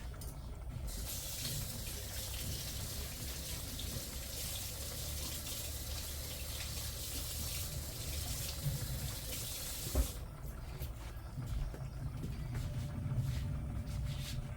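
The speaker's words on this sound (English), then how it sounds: "Now I gotta rinse my hands off." Hands get rinsed under a running kitchen tap, a steady rushing stream of water for about ten seconds that then changes to lighter splashing and dripping as the flow is cut back.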